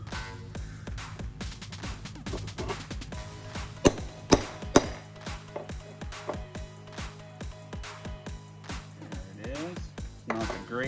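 A metal channel stamp is hammered into a rough surface, giving a few sharp, ringing strikes in quick succession amid quieter tapping and handling noise, with someone talking between blows.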